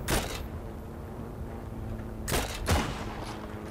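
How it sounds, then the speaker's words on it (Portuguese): Gunfire in the Heroes & Generals video game, shooting from far away, with a burst at the start and two more sharp volleys near the end over a quiet background hum. "Tô levando tiro de muito longe."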